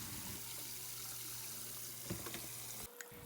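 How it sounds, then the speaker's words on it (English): A cold-water kitchen tap runs steadily over pieces of beef being rinsed by hand for bun bo Hue, a soft, quiet hiss of flowing water with small splashes, ending with a faint clunk. "After soaking, we will run our beef under cold water and we will wash them piece by"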